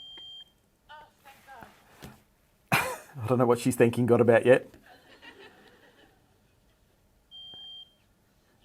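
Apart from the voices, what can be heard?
smoke alarm beeping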